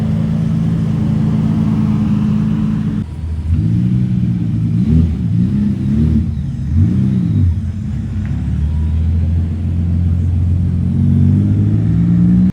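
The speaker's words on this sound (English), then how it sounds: "Oh, here comes the Momo Diablo, ladies and gentlemen." A Lamborghini Diablo supercar rumbles nearby, its engine revving in several rising and falling surges as it drives past, loud and close over a steady low drone.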